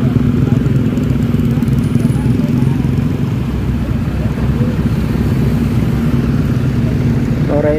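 A large engine runs steadily on a flooded road, a loud, constant low rumble that persists throughout with no pauses, with a voice speaking over it.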